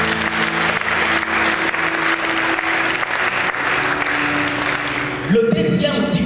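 A church congregation applauds and cheers for the Lord during a French-language sermon, loud sustained clapping filling the space, then swelling into louder cheering and voices near the end.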